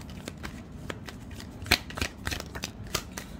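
Tarot cards being shuffled by hand in several quick riffling bursts and soft flicks, close and crisp against a quiet background, with no one talking.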